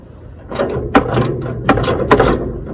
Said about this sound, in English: this bolt right here, I'm gonna use a 14 millimeter just to try to loosen it up a little bit